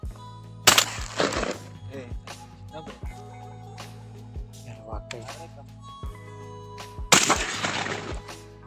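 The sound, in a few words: gunshot while hunting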